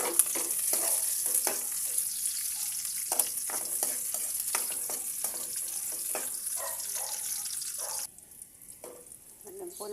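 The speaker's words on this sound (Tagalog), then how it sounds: "Mainit na po, lagay na po natin ang bawang. Sunod na po natin ang sibuyas." Garlic and onion sizzling in hot oil, crackling frying with a series of stirring knocks and scrapes, dropping quieter near the end.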